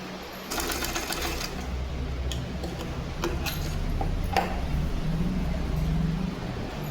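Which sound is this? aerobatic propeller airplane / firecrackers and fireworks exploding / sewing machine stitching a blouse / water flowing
sewing machine stitching a blouse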